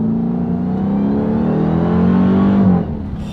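A supercharged 2021 Dodge Durango Hellcat engine revs up with a rising, whining roar, loud and close, then drops off abruptly as the throttle is released.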